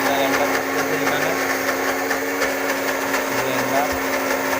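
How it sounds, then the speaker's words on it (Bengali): Kitchen blender running in a village home, a steady close whirring motor drone with a high whine on top, with people talking over it now and then. "ব্যালেন্ডার করতেছে এখানে"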